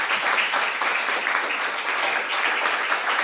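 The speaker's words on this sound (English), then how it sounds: "I want you to give a strong applause to our panelists." An audience at a science and innovation conference session applauds its panelists, giving a dense, steady round of clapping that fills the hall for a few seconds.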